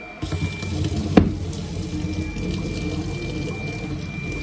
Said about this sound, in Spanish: Así que vamos a ver cómo sale el agua.